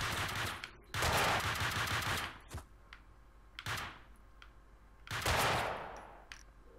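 Gunfire in The Fall of Max Payne video game: loud bursts of shots in several clusters with sharp onsets and decaying tails, separated by brief quieter gaps.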